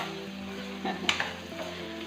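Grated carrots for gajar halwa stir-fry in a pan with a low sizzle, and a couple of sharp scraping stirs of the spoon stand out near the middle of the short moment.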